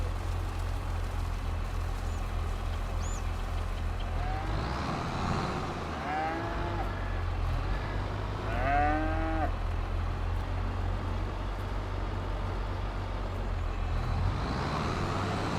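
Cattle on a farm in Farming Simulator low out in several drawn-out moos, rising and falling in pitch over a steady engine hum.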